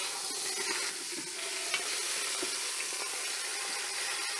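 A pot roast sizzles steadily in an oiled pan as it is flipped and seared, with a constant frying hiss and no talking.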